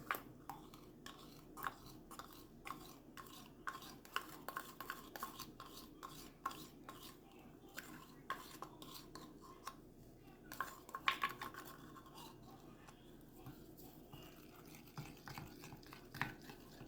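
A utensil stirs a glycerin and guar gum mixture into rose water for bath gel, repeated close clinks and scrapes against the container in an uneven rhythm, fairly soft, with no talking.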